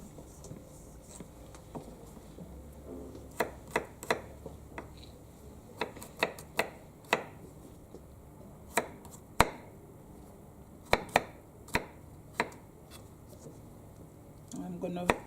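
Kitchen knife chopping garlic on a cutting board in a school cooking lesson, a series of sharp, irregular taps spread across the clip, close but quiet, with occasional talking around them.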